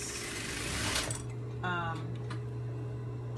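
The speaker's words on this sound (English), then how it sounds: "I'm gonna stitch in a 5/8 of an inch seam allowance" A sewing machine runs briefly while stitching a seam with a 5/8-inch allowance, a short mechanical whir over a steady low hum, followed by a few light clicks.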